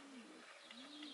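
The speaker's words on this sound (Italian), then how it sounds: "qualcuno di questi cinguetti che si sentono in sottofondo" Birds call softly in the background of a wood, with a low cooing note repeating twice over a steady hiss.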